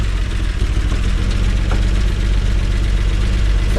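A 1962 Chevy pickup truck that sat parked for 20 years idles close by with a loud, steady low rumble that holds even and uninterrupted throughout.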